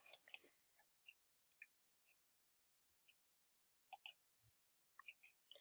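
Several quiet, sharp clicks of a computer mouse, scattered singly and in quick pairs across a near-silent background, with no talking.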